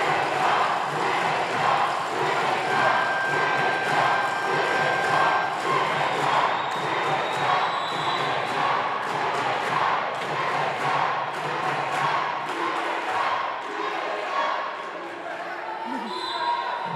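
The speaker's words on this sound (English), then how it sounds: "Listen to that crowd." A packed arena crowd at a Mexico vs United States foam dodgeball mixed final roars continuously and loudly, a dense wall of cheering punctuated by scattered thuds and bounces of balls on court throughout.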